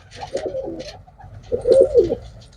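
Pigeons offered for sale coo close by in two throaty, rolling bursts, the second louder and fuller.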